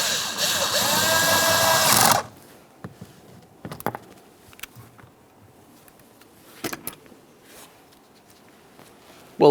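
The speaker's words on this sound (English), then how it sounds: "Now we're going to be inserting our screw into the grab handle here." A power drill on a Jeep Patriot rear door grab handle whirs steadily at close range for about two seconds, then stops. Scattered clicks and light handling noises follow in a quiet garage.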